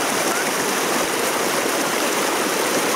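Thermal spring water flows steadily over travertine pools at Pamukkale, a dense, continuous rushing and splashing wash that stays even and fairly loud throughout, with no voices.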